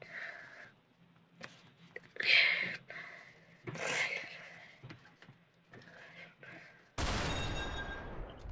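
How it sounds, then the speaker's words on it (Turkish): A sniper rifle fires in a pirate adventure video game, a single loud, sharp blast near the end that follows a stretch of quieter, intermittent game sounds, with what seems to be a faint voice in the background. "Keskin nişancı silahıyla ona bir suikast gibi bir şey yapacağız."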